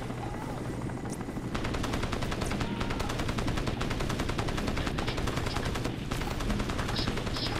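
Rapid automatic gunfire in the shooter game Crysis rattles as a fast, even burst of shots for most of the stretch, over a steady whirring background like a helicopter, loud and continuous.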